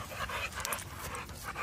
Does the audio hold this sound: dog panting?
yes